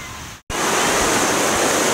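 Heavy rushing river water swollen after a lot of rain, a loud steady broadband roar that cuts out for an instant near the start and then continues without a break.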